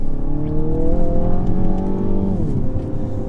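Mini climbing a hill under throttle with a manual gearbox, its engine note rising steadily and loud from inside the cabin, then shifting down in pitch as the revs change near the end.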